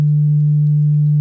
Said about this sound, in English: So this is just a sine wave right now,